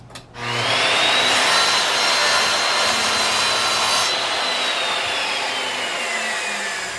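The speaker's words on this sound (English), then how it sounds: "take one of those 12-inch by 1 1/4 boards and once again, split it in half." A power saw cuts a 12-inch by 1 1/4 wooden board in half, with a loud, steady whining, rasping cut lasting several seconds that rises in pitch and then slowly drops. No one talks.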